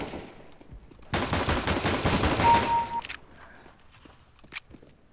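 A rapid burst of pistol fire in the shooter game CS:GO, a dense run of shots lasting about two seconds followed by quieter footsteps and a single sharp click.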